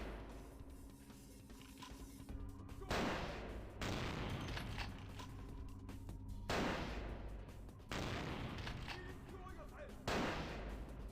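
Enemy gunfire in the game Vampire: The Masquerade - Bloodlines, repeated heavy bursts of shots a few seconds apart, loud against a quieter background hum, with someone speaking in between.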